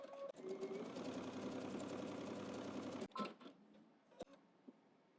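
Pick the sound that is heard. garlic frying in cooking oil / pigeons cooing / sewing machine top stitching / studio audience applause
sewing machine top stitching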